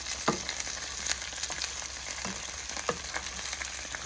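Ingredients fry in a pan before being ground, giving a soft, continuous sizzle broken by scattered crackles and pops, fairly quiet and close, with nobody talking.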